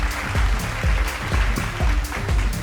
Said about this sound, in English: Can you give him a big round of applause while he makes his way to the stage?